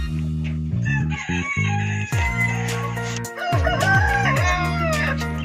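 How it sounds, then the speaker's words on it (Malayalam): A rooster on a mixed farm with several breeds of chicken crows loudly and close by in drawn-out harmonic calls. Clucks and other fowl calls overlap near the end. "ഇതില് പലതരം കോഴി ഉണ്ടല്ലേ?"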